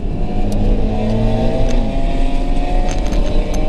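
A Scion FR-S accelerates hard on a race track, its engine note loud and close from inside the car, rising and holding through second gear with faint wind and road noise underneath.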